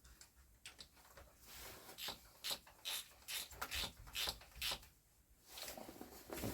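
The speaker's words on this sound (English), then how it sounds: "Change for this one for a long reach socket" A ratchet turns a long reach socket while working on a Honda XR 125 motorcycle, making rapid, close clicking bursts in short repeated strokes, with faint rubbing between them.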